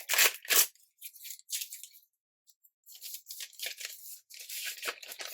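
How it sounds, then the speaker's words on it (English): Paper packaging around washi tape crinkles and tears in close, loud bursts, a few quick rustles, a brief silence, then a longer stretch of crumpling. "You're going to hear a lot of crinkling for a second."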